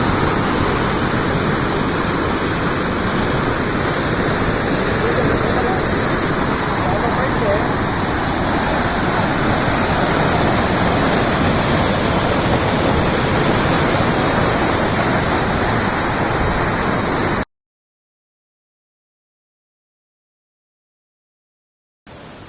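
A waterfall at a canal pours in a loud, steady broadband roar close by that holds unchanged for about seventeen seconds before cutting off abruptly.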